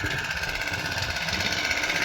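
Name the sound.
petrol engine pump of crop sprayer running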